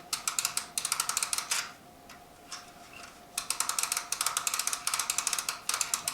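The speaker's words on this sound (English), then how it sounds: "we're going to push in the rewind button here and start rewinding" An AGFA analogue film camera is rewound by hand, giving rapid, crisp ratcheting clicks in fast bursts with a short pause partway through. The clicks are close and fairly loud, with no talking.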